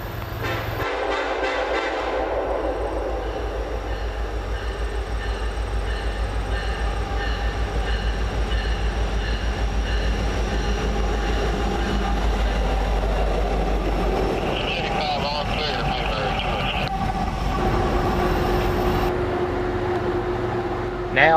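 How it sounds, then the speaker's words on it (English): Norfolk Southern locomotives rumble steadily past with a loaded coal train on the Pocahontas Division, a loud continuous low roar and rail noise throughout, with a horn-like tone and brighter wheel sounds later on. "pusher J5R headed west toward farm for a rendezvous with a loaded coal train."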